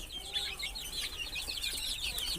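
Native backyard chickens raised on a small village farm keep up a steady stream of soft, overlapping clucks nearby, with no one talking.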